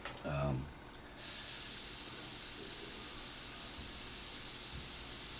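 A brief soft voice, then a Harder & Steenbeck Evolution airbrush starts spraying: a steady, bright hiss that runs continuously and evenly to the end.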